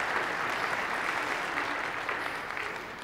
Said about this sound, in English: I think now you can clap.